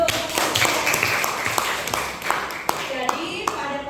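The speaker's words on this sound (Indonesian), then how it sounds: "Ya, tepuk tangan dulu." Classroom students clapping their hands together in a lesson, uneven scattered claps and a few sharp taps mixed with voices talking in the room, fairly loud and close.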